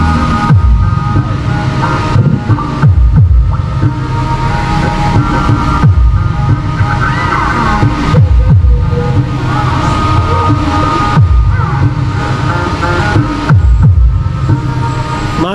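A Krell 8 power amplifier, repaired after going into protection and clipping, plays loud through speakers: a steady, bass-heavy throbbing with regular low pulses and no talking.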